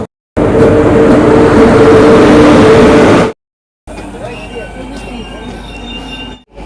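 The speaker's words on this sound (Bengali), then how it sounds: "আমাদের ট্রেন প্ল্যাটফর্মে ঢুকে গেল" Deoghar Express train pulling into a station platform: a loud, steady rumble of rolling wheels with squealing metallic tones for about three seconds, then a brief cut to quieter, softer rolling and station ambience.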